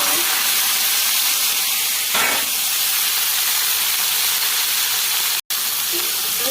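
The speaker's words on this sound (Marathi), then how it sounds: "आणि आता हे तडतडले याच्यामध्ये टाकलं" Cauliflower florets tipped into spluttering tempering in a home kitchen pan give a steady, loud hissing sizzle that holds through, with one abrupt brief cutout near the end.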